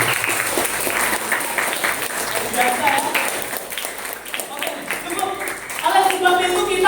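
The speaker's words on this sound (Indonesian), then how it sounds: "Berikan tepuk tangan dong bagi Tuhan kita" An audience of children and adults claps at an Easter celebration in a Christian primary school in Tulungagung, with scattered claps under cheering and voices, then livelier rhythmic clapping near the end.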